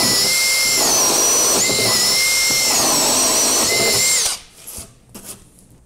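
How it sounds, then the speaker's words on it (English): A power drill with a Stinger Power Bit whines loudly and steadily, its pitch dipping as it bites into hardwood, then stops abruptly, followed by a few faint clicks and rustles. "Simply chuck them up and start drilling."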